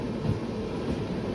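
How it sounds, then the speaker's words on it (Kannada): Opposite train rumbling past on the adjacent track while the listener's own train stands stopped waiting at a signal, a steady low roar with wind buffeting, close and continuous. "ಸೊ ಈ ಟ್ರೈನ್ ಕ್ರಾಸ್ ಆಗೋದಕ್ಕೋಸ್ಕರ ನಮ್ಮ ಟ್ರೈನ್ನ ಸ್ಟಾಪ್ ಮಾಡಿದ್ದಾರೆ"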